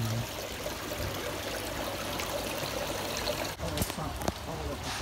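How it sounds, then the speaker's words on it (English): Steady trickling water runs throughout, with a few soft clicks and bumps toward the end. "And water features. That's quite nice."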